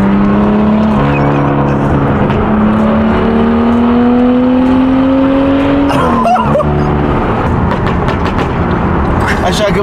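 A loud car engine hums and climbs in pitch as it revs, then drops off sharply with a pop before idling on.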